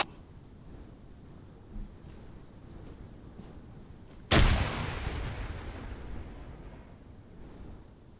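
A grenade explodes in the video game Arma 3, one sudden loud blast followed by a long rumbling tail that slowly fades under faint wind-like ambience.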